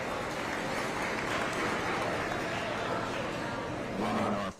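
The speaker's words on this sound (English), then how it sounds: "Let's give all those exhibitors a big round of applause." Audience clapping in the arena at a county youth fair beef show after a feeder calf class, a steady broadband wash of applause filling the clip, with crowd murmur and a voice breaking in near the end.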